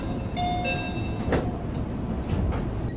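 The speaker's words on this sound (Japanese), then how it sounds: "1番線から電車が発車します。" A Meitetsu local train bound for Meitetsu Gifu departs platform 1, rumbling and hissing steadily, with a faint high tonal squeal early on and broad mechanical noise throughout.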